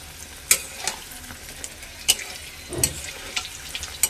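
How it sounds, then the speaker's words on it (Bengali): Slices of pointed gourd (potol) frying in oil in a kadai, a continuous close sizzle broken by sharp clinks and scrapes of a spatula stirring at irregular intervals, with no talking. "আমি এখন পটল ভাজাটা করে নিচ্ছি"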